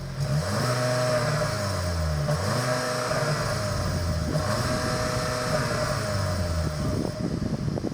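A 2024 Skoda Octavia RS hot hatch revs repeatedly through its exhaust, rising and falling in pitch. The sound is loud and close, with steady engine drone between the throttle blips.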